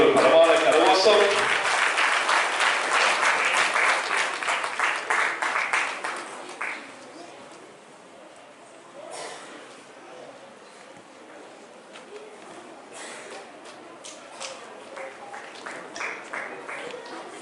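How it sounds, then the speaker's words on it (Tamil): Applause from an audience at an awards ceremony during a human rights peace conference in Jaffna, loud and dense for the first six seconds, then thinning into scattered claps and murmuring with voices in the background. "அங்கே ஒரு பிரமாண கரகோஷம்."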